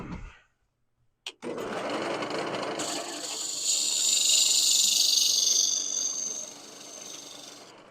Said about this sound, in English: now I can use my box scraper